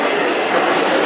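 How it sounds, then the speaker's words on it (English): A New York City 7 express subway train rushes past at close range, a steady loud roar of rail noise with faint clickety-clack of the wheels and no talk. "Oh no, that was a express train."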